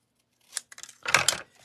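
Scissors trimming a paper craft kit, a few quick crisp snips close by, the last couple of cuts louder and longer, with no talking.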